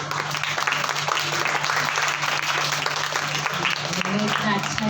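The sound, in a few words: children clapping applause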